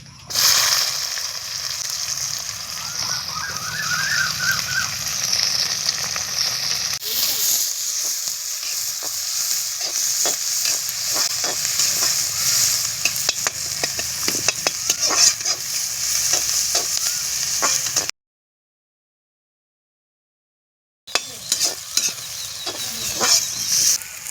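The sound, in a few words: onions frying and being stirred in oil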